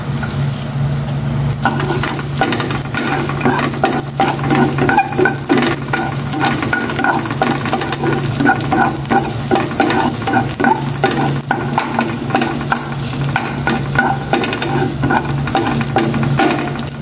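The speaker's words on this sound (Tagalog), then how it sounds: "Lagay ko na itong bawang. Mainit naman na." Garlic drops into hot oil and fries with a loud, dense crackling sizzle, close up and steady for many seconds, broken by frequent scraping and stirring strokes of a utensil against the pan.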